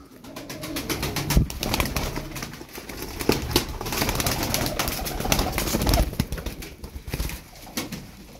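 A large group of about fifty tumbler pigeons keeps up a dense, overlapping cooing chorus, mixed with frequent sharp wing flutters and scuffs, loud and close throughout.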